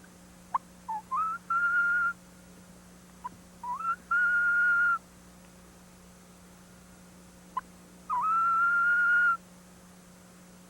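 A turkey hunter imitates a wildcat call with his voice or a mouth call. Three clear, high whistling cries, each with a short rising chirp leading into a sustained tone, sit in a quiet room with a steady low hum and brief clicks between them.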